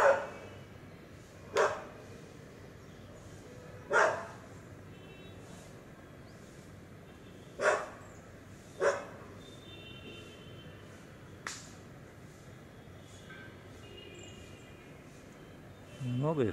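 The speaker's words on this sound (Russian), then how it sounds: "На дереве очень много летучих собак." Flying foxes roosting in a tree in Puttaparthi, India, let out a handful of sharp, scattered squawks at irregular intervals over a quiet outdoor background with faint insect hum.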